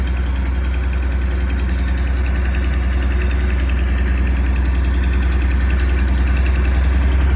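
A tractor's steady, low engine idle rumbles on without a break on a cold day, with a constant mechanical vibration and no voices.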